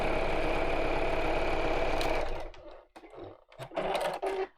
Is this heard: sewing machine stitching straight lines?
yes